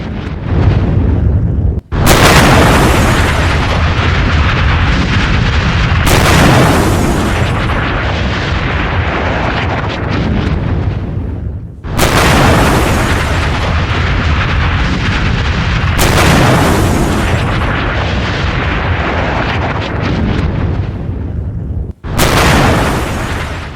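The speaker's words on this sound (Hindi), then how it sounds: "अमेरिका हमले के बाद वेनेजुएला से धमाके की तस्वीरें सामने आई। कई किलोमीटर दूर तक धमाके की जोरदार आवाज," US air strikes on Venezuela set off heavy explosions, recorded as long, loud rumbling booms that hit again and again. Each new blast cuts in sharply and the low roar fills the whole stretch, with no talking.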